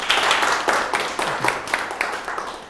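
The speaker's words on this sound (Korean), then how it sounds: "박수 한 번 더 주세요" A lecture audience claps in a short, moderately loud burst of applause with uneven beats, heard indoors without talk.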